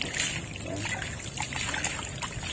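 Water trickling and splashing onto soil while watering a replanted bougainvillea, a close, continuous dribbling pour that runs steadily through the moment.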